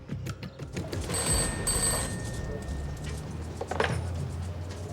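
Old-style telephone bell ringing at a police station: two bursts of bright ringing close together, fairly loud, over low background rumble.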